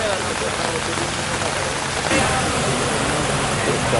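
Heavy, continuous rain pours down during a prolonged downpour in Sri Lanka, a dense steady hiss with no pauses and no speech over it.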